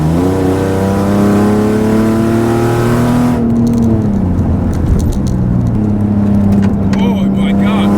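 A stock Nissan 370Z, the regular non-Nismo model, revs hard at Willow Springs Raceway, its engine note climbing steadily, then an upshift and renewed acceleration, loud and close from onboard, with a voice talking over it.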